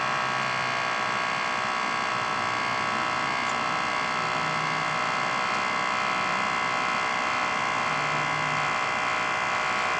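Small electric air suspension pump on a Kawasaki Vulcan 1700 Vaquero motorcycle, inflating the suspension with a steady, continuous mechanical whine and buzz that holds unchanged throughout, close and moderately loud with no talking.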